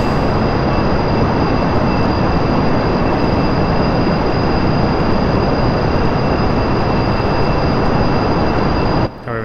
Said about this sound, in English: Let's fire these engines, these solid boosters.